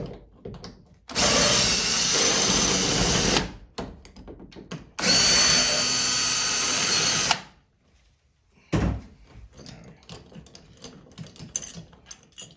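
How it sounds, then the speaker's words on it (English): A power drill backs out the screws of a bathroom or bedroom privacy door knob in two long, loud runs of whining motor, followed by a short third burst after a pause, with small handling clicks in between. "start by removing these screws"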